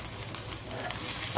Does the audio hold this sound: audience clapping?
no